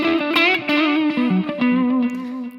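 Dry electric guitar routed into Loopy Pro, picked single notes and short phrases ringing clearly up close, with distinct plucked attacks and a slightly gritty edge, played alone.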